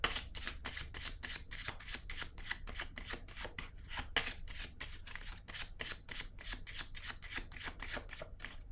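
Tarot cards handled at a table, a fast regular run of crisp papery flicks and slaps, close and steady for several seconds with no talking.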